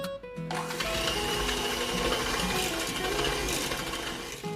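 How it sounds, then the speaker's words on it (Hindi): An electric mixer beats 220 grams of butter with 220 grams of sugar for a pineapple upside-down cake batter, giving a steady, loud, close whirring drone that runs unbroken after a brief start. "अब हम इन दोनों चीजों को बीट कर लेंगे"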